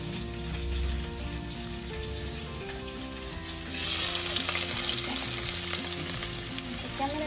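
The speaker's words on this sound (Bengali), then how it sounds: "তেজপাতাটা লাল লাল হয়ে গেল, এবার শুকনো লঙ্কা দিয়ে দিলাম।" Dried red chillies and a bay leaf fry in hot oil for a Bengali prawn malai curry, giving a steady close sizzle that grows louder and crackles more brightly when the chillies go in, with no talking.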